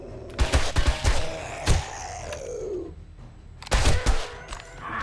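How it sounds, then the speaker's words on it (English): A pigeon in the video game 7 Days To Die gives a drawn-out descending screech amid sharp bursts of gunfire and mechanical clatter, with more shots following. "Yeah, another pissed off pigeon."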